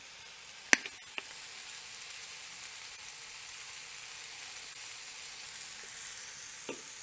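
Ground meat browns in a pan with a soft, steady sizzle, fairly faint and even throughout, broken by a couple of sharp spatula clicks near the start and one near the end.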